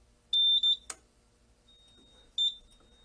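A smoke detector sounds during a fire alarm panel test: two sharp high beeps close together, a brief click, then a third beep after a pause, in a quiet room.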